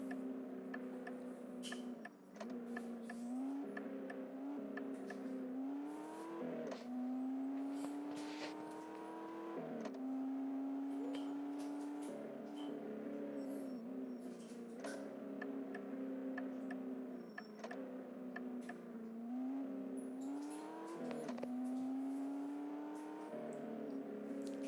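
Engine of a car in a driving school video game, droning steadily and rising in pitch with each acceleration and gear change, close and continuous with no talk.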